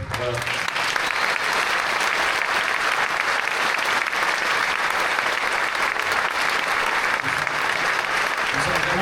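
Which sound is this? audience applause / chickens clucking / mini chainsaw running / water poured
audience applause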